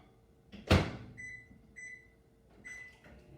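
A microwave melts four tablespoons of butter: a sharp door clunk, then a few high electronic beeps in a quiet kitchen.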